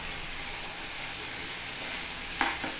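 Chickpeas stir-frying in a sizzling masala, a steady close hiss filling the clip, with a couple of brief scraping knocks of the spoon near the end.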